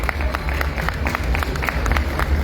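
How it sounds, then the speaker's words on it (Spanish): Audience applause at a university book presentation, steady clapping from a crowd that holds at an even level throughout. "Un aplauso para las tres."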